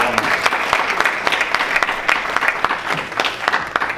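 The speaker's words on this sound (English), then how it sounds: "Can we just give our last speaker a clap of" Audience applause at the Ijaw Diaspora Convention 2022, a steady crowd clapping for a departing speaker, dense and continuous throughout with scattered sharper claps standing out.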